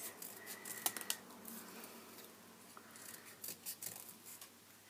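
Scissors snip through paper while cutting out a flower petal shape, a few close, crisp cuts spaced irregularly against a quiet room with no talking.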